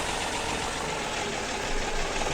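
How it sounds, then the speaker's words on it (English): Tractor engine idling in the Farming Simulator 2017 video game on the Sandy Bay farm map, a steady, even rumble heard alone at moderate level without talk. "It seems to be pretty good, this tractor."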